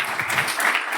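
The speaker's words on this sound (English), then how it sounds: "let's give Eugene a final round of applause" Audience at a Hardwear.io USA 2024 security conference applauding a speaker after his talk on hacking monitor control commands, a short burst of dense hand clapping filling the room at a steady level.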